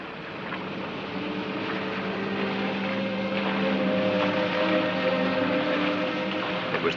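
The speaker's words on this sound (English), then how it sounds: "Then I heard a boat." A boat engine approaches along the coast, a steady droning motor hum with tonal whine that grows slightly louder as it nears.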